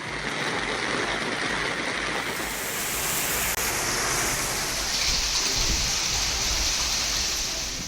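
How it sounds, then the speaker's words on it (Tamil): Heavy rain pours steadily with strong wind during a hailstorm in the Thalaivasal area of Salem district, Tamil Nadu, making a dense, unbroken roar of rushing water and gusts that swells slightly midway. "பலத்த காற்றுடன் கனமழை பெய்தது"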